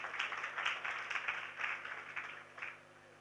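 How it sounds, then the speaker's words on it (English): Audience clapping for Lantern Books at the Ashoka Young Changemakers Festival, a moderate burst of applause with uneven swells that stays fairly steady, then thins toward the end. "Let's clap for Lantern Books."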